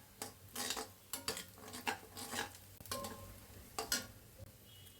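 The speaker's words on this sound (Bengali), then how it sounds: "আমি রসুন পেঁয়াজটাও দিয়ে দিব। আমি এগুলো একটু 2 মিনিট ভাজা করে নিব।" Garlic and onion frying in a pan, a steady sizzle beneath repeated scraping and clinking of a spatula stirring against the metal, close and moderately loud.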